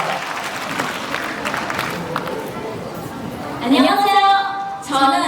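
Audience clapping at a foreign-participant Korean-language speech contest, a steady broad wash of applause from a crowd that swells louder near the end, with a voice briefly heard over it.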